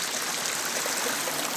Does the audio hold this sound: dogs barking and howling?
no